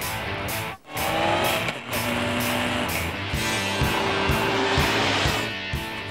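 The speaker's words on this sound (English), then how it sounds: "with a heavy growling engine and 107 brake horsepower" A Honda CB1300 motorcycle with a heavy, growling engine revs loudly and close, its pitch climbing through several gear changes with brief dips between them, and no voices.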